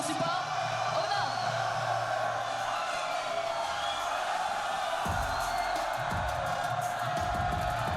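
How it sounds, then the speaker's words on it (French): A crowd in an esports arena during a French League of Legends division 2 match cheers and whoops steadily across the whole stretch, a dense roar of voices with a low musical drone underneath. "écoutez le bruit dans la salle"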